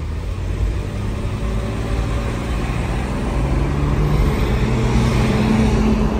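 A 1995 Mercedes-Benz E36 AMG wagon accelerating, heard from inside as a steady, loud low engine rumble with rising road noise that builds gradually throughout.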